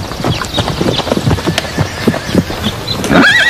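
Horse hooves clip-clop in a quick, uneven rhythm close by, ending with a short whinny.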